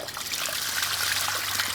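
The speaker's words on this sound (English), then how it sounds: "this is the water that goes to the shamba." Water from a fish pond trickling steadily along a farm channel toward the fields, a continuous near splashing flow with no voices.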